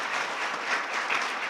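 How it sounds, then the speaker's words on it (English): An audience at a high school athletic hall of fame induction ceremony applauds, a brief, steady wash of clapping heard from a moderate distance in a hall. "So I'm going to give you a round of applause."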